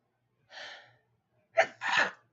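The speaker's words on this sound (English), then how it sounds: "Oh God, I'm gonna sneeze." A quick breathy inhale followed by a sharp, explosive sneeze, close and clear against silence.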